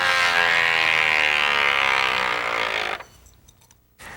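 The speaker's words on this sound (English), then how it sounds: "Gently run the spinning yo-yo across the paper. This will create a power saw cutting sound." A loud, rough mechanical buzz like a small power saw cutting, made by a spinning yo-yo run across paper, steady for a few seconds then cutting off abruptly, followed by a brief faint buzz.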